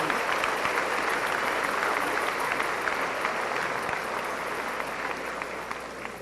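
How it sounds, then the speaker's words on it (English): An auditorium audience at a school district general session applauding, a thick, even wash of clapping held at full strength and easing slightly toward the end. "I want to give a big round of applause to our elementary campuses"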